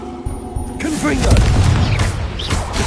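A Confringo blasting spell explodes in Hogwarts Legacy, a loud booming burst with rumbling crackle that follows a brief casting whoosh, while a voice speaks over the game sounds.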